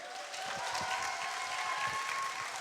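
Audience applause at a beauty and confidence special event, steady moderate clapping with a faint held tone running beneath it.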